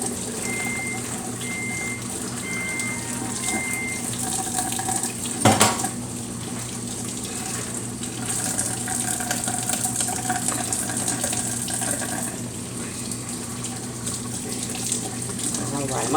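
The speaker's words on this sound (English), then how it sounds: "So let me rinse this spoon off." Water runs continuously from a kitchen tap while a spoon is rinsed beneath it, with a brief metallic clink partway through.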